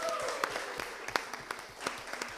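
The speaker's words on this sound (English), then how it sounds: "Give them a round of applause." Moderate clapping from the audience at a property debate between BTO and resale teams, with distinct individual claps on top of the wash, fairly quiet, and a few faint tones at the start.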